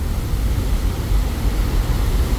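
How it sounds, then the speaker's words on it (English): Floodwater rushing out of an emergency lake spillway after heavy rain, a steady broad roar with deep low rumble, continuous and unbroken, heard alone without voices. "the rumbling sound you can hear coming out of there"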